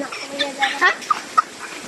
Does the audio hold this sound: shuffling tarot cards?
no